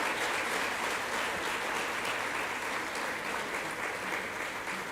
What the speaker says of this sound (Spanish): un fuerte aplauso para la doctora.